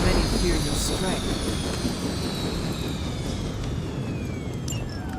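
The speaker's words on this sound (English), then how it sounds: "You've grounded the helicopter." A helicopter in the superhero strategy game Marvel's Midnight Suns drones loudly with a broad roar and a rising engine whine, fading slightly over a few seconds.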